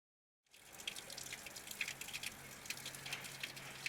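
Water from an underground stream runs steadily from an old village fountain in Paternopoli, Italy, a soft, continuous trickle with small splashes that starts after a brief silence.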